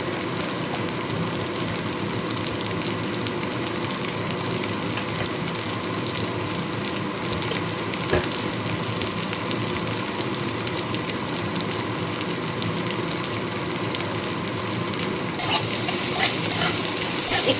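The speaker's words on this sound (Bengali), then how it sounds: "রসুনটা হালকা ভাজা ভাজা হয়ে গেছে এবার আমি দিয়ে দিচ্ছি পেঁয়াজ কুচনো" Steady broadband sizzling of garlic and chopped onion frying in hot oil, continuous and close, with a slight rise in hiss near the end.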